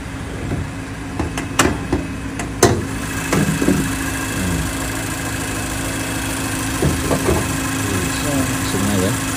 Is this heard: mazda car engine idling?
yes